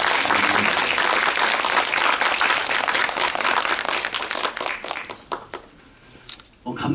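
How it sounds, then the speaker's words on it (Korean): Applause from a cinema audience at a CGV Yongsan theater screening Q&A welcomes the guests, loud and dense at first, then breaking into scattered claps that fade out near the end. "박수로 맞아주세요."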